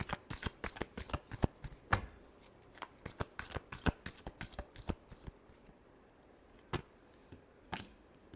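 Tarot cards shuffled by hand at close range, a rapid run of crisp riffling snaps and slaps in uneven bursts with brief pauses, no voices.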